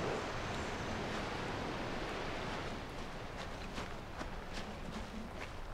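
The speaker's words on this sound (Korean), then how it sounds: "이거 폭포가 하나 더 있네." A waterfall in the Far Cry Primal video game pours as a steady broad rushing roar, with soft footstep-like taps over it in the later part.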